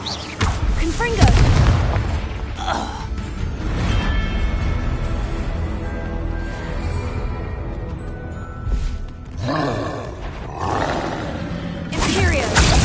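Hogwarts Legacy combat with a Confringo fire spell brings a loud booming blast and roaring rumble, followed by sustained swelling effects and further bursts near the end, with voices heard alongside.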